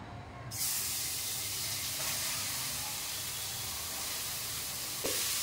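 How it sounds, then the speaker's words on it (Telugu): Grated carrot fries in a pan for halwa, a steady close sizzle and hiss that starts abruptly and continues evenly, with a brief stir. "క్యారెట్ తురుము వేసి పచ్చివాసన పోయేంత వరకు వేయించుకోవాలి"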